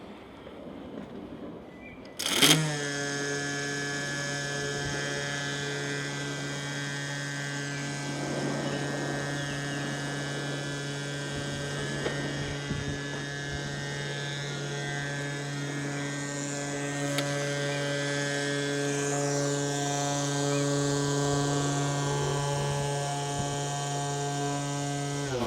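Ecovacs GOAT A3000 robot mower with built-in string trimmer working along a lawn boundary beside bricks, giving a steady high-pitched motor whine that holds for the whole stretch after a brief start-up, fairly quiet.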